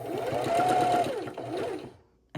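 Quilt pieces being stitched straight across on a sewing machine, with one sustained whirring run that eases off, a shorter second burst, then quiet at the end.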